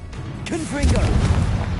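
A Confringo fire spell from Hogwarts Legacy detonates in a deep, rumbling blast right after a voice shouts the spell, the low explosion lingering loud to the end.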